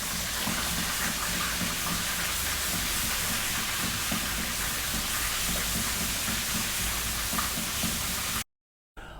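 Tilapia fillet frying in a pan of hot oil, basted and flipped, gives a steady, dense, close sizzle and crackle that runs without a break before cutting out briefly at the end.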